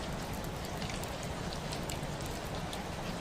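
Steady rain falls on a surface in a dense, even hiss with scattered droplet patter, continuous and close throughout, with no voices.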